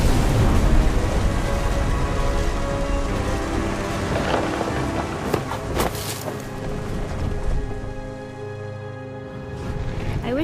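Steady heavy rain with rumbling thunder in What Remains of Edith Finch, a dense continuous downpour with a few sharper cracks midway, loud and enveloping.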